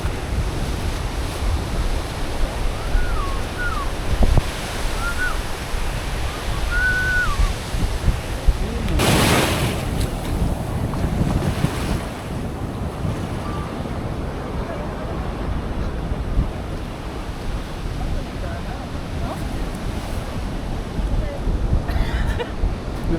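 Surf washing onto the shore at Bolinao, Pangasinan, a steady broadband roar with wind buffeting the microphone, while people chat over it and a sharper wash swells briefly near the middle.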